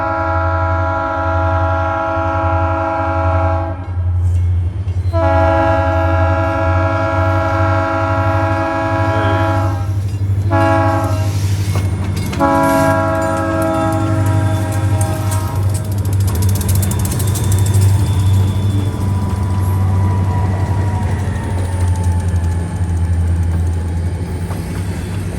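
A freight train led by a blue locomotive with a green one behind climbs a hill, its loud, close horn sounding in long harmonic blasts over a heavy, steady diesel rumble.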